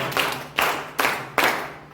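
Four loud bursts of audience clapping at a weekly discussion gathering, each sharp onset fading over about half a second.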